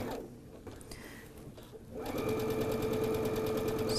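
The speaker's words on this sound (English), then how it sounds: "I'm going to stitch a 1/4 inch from that all the way across" Sewing machine stitching a quarter-inch seam across a quilt block for an hourglass pattern, a steady, close, rapid mechanical whir that starts about halfway through after a quieter stretch and runs continuously to the end.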